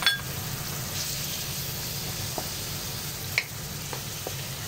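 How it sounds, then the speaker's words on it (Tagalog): Beef sautéing in oil with garlic, onion and chili, a steady sizzle and frying hiss throughout with a few light metallic clinks from stirring. "Nag-gisa lang ako ng bawang, sibuyas."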